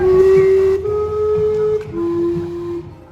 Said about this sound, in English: many come to see the world famous Gastown steam clock.